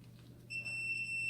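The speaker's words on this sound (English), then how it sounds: "You'll hear that little beep." A steady high electronic beep sounds partway through, holding for under a second against a low background hum.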